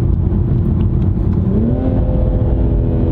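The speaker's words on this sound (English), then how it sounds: "the exhaust sounds so good" A 2020 Toyota GR Supra's exhaust drones loud and close as the car accelerates, a steady engine note that climbs in pitch partway through, with no talking.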